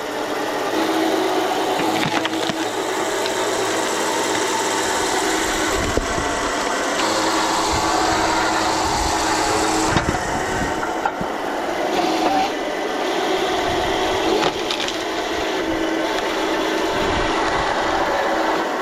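A homemade log splitter runs with a steady mechanical engine drone close by, the noise continuous and fairly loud with occasional knocks and thuds as firewood is split.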